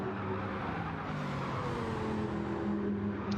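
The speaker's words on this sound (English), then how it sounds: "You can hear the tyres screeching in protest." Supercar racing in a video game at Trial Mountain, engines droning steadily while tonal tyre squeal rises and falls as the cars lose grip through a corner, continuous and loud, with no voices.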